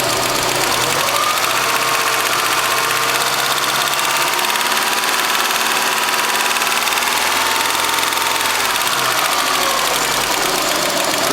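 A Peugeot 406 2.0 litre engine with a freshly replaced head gasket idles steadily and close by, giving an even mechanical hum with a light ticking texture and no talk over it.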